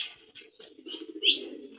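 Soft, low pigeon cooing rolls on steadily, with a few brief chirps above it, close by.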